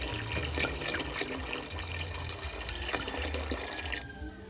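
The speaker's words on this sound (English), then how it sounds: "add some water to this now." Water is poured into a pot of Jamaican stew peas with pig's tail, a steady splashing trickle close by, accompanied by a few clinks and knocks from the pot and utensils.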